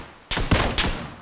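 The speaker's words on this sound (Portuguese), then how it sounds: "Eu tô ouvindo o tiro também" Gunfire in the battle royale video game PUBG Battlegrounds: a quick cluster of three or four sharp shots in about a second, loud and close, after a brief quiet moment.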